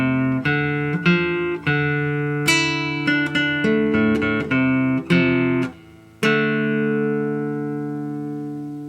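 Clean electric-style guitar playing the closing two bars of a song, a run of ringing plucked notes and chords ending on a sustained D5 that rings out alone.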